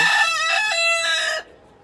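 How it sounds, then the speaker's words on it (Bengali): Chickens cluck and a rooster crows loudly and close by, a rich harmonic call holding steady for over a second before cutting off into quiet, in a rooftop garden on a sunny morning. "মুরগিগুলোকে এখন খাবার দিব।"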